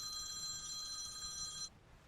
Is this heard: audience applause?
no